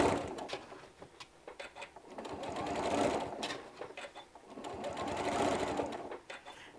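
Sewing machine stitching fabric for a bottle bag holder, running in two steady bursts of rapid needle clatter that swell and ease, close and fairly quiet with no talk.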